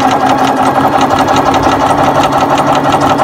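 A BERNINA sewing machine stitching back and forth, its steady motor hum and rapid needle clatter running continuously and close at even loudness throughout.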